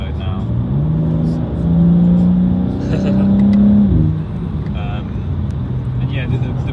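A BMW G87 M2 in M2 mode revs loudly, its engine note climbing and holding twice before dropping off, with pops and burbles under someone talking.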